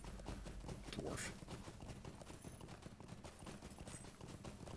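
Pony hooves clip-clop at a steady trot in the online game Lord of the Rings Online, a continuous rhythmic patter of quick hoofbeats, fairly faint and unaccompanied by talk.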